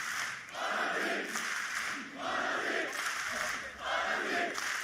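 An esports arena crowd at Valorant Champions chants for Fnatic during a DRX match, rhythmic massed voices rising and falling in repeated bursts, loud and reverberant across the hall.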